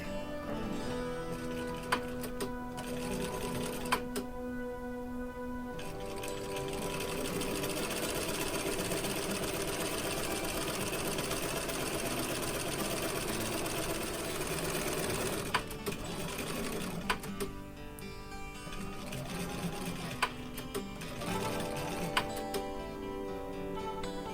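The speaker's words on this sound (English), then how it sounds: "Then stitch the hemline of the skirt to the lining." A sewing machine stitches the hemline of a doll dress skirt to its lining in close, steady runs of rapid mechanical whirring. Two short pauses break the stitching before it resumes, with occasional faint clicks.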